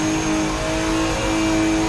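A Downsyde Garage S15 car revving hard in the Assetto Corsa racing game, a loud, steady high-pitched engine drone holding constant pitch for the whole moment.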